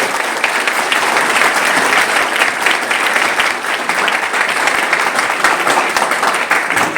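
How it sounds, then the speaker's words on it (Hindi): Dense, loud applause from a large audience at a kids' program fills seven seconds without a break, greeting young girls after their Saraswati Vandana dance performance. "उनके लिए बहुत जोरदार तालियां बजा के उनका स्वागत कीजिए आप सब"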